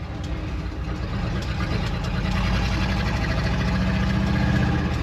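An old Dodge Sweptline pickup truck drives along in second gear, its engine a steady, loud, close rumble with a continuous low drone throughout.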